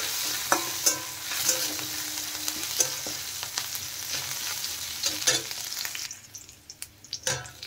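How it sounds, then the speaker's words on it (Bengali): Crushed ginger, crushed garlic and chopped green chilli stirred as they fry in a pan while cooking samosa filling, with a steady close sizzle broken by repeated scraping strokes, easing off near the end. "মশলা একটু নেড়ে দিচ্ছি দেখেন"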